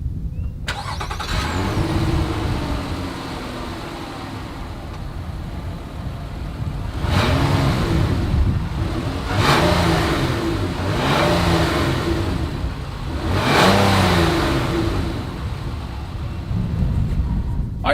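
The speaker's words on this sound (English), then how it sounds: "here is that exhaust clip" A 2020 Nissan Murano's engine revs through its dual exhaust with chrome tips, a steady rumbling idle broken by three or four sharp, loud throttle blips that rise and fall at close range.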